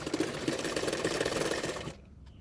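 A sewing machine runs in a fast, steady whir while stitching along the edge of a belt on a double katori blouse, then stops abruptly near the end.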